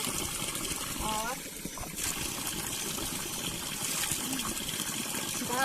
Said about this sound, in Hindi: ये एकदम साफ और प्योर पानी आता है।